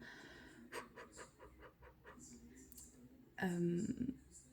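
Quick, heavy breathing and panting from a person, soft and close, in a run of short rhythmic breaths, followed by a louder voiced burst.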